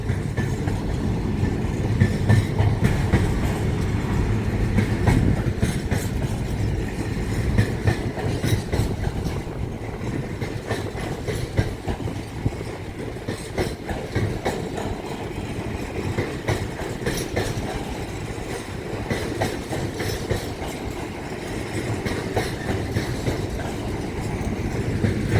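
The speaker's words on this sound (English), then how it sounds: "We've got trains in quite close proximity." Trains pass through Manors Station, a loud steady rumble of wheels and carriages rolling close by, with rhythmic clatter and roar lasting throughout and no talking.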